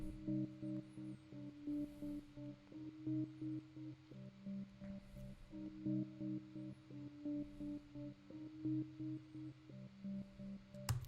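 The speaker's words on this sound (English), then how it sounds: "I'm gonna play this and show you what it sounds like." A soft, sustained Analog Lab synth pad holds warm chords, gently pulsing in a slow repeating pattern with no voices.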